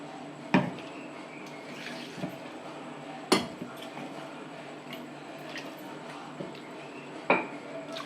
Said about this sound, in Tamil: இப்போ நல்லா மிக்ஸி ஜாரை அலம்பிட்டு